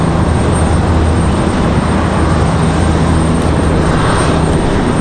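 Boeing 737 jet airliner taxiing at Raleigh-Durham International Airport, a loud steady engine roar close by that holds level throughout with no talking.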